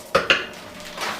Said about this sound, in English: And now we're going to give it a quick stir.